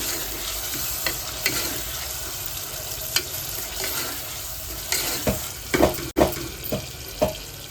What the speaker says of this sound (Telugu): చూడండి ఇలానైతే మిక్స్ చేసేసుకోండి అల్లం పేస్ట్ వేసిన తర్వాత